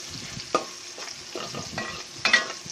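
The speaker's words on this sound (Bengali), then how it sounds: "আমরা পেঁয়াজটা খুব ভালো মতো ভাজা হওয়ার জন্য অপেক্ষা করছি।" Onion fries in oil with bay leaves while being stirred, scraping and clinking against the pan in close, irregular strokes over a soft background sizzle.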